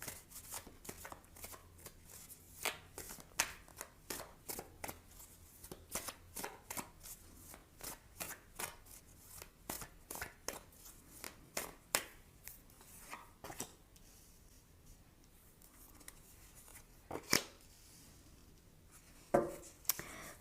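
Tarot cards being shuffled and drawn by hand, a quiet close-up run of brisk riffling flicks and soft slaps in irregular bursts, with occasional louder snaps toward the end.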